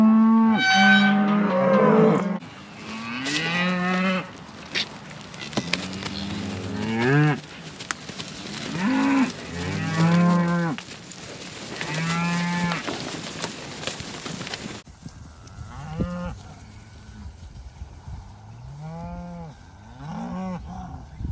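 Cattle gathered at a pasture gate moo repeatedly, with overlapping long, loud calls near and farther off alternating with short pauses.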